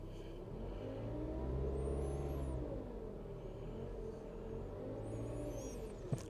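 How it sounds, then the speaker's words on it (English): A Mazda 6 engine idles with a low, faint rumble and takes a gentle touch of throttle, its pitch swelling briefly then easing back before a second mild rise. "It purrs nicely. I'll give it a little gas."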